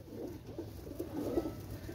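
A pair of Pakistani pigeons coo softly and low, faint but continuous, with no voices.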